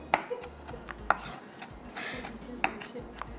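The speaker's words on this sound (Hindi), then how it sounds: "ये प्याज को जो है हम थोड़ा सा कर लेते हैं मोटा मोटा चॉप" Knife coarsely chopping onion on a cutting board in a home kitchen, a few sharp, separate chops spaced irregularly over a low background hum, no talk.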